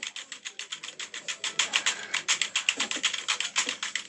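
Computer keyboard keys clack in fast, steady bursts during a fighting game, a dense close-up run of rapid key presses with no talking.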